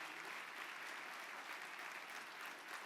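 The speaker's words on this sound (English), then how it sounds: "So let's give our scholars a round of applause." At a State of the Schools gathering, a large audience applauds the student scholars. The clapping forms a steady, even wash of many hands, heard quietly and at a distance throughout.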